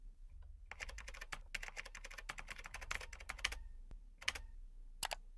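Rapid clicks of keys on a computer keyboard as passwords are typed in bursts, with short pauses between runs of keystrokes, close and crisp in an otherwise quiet room.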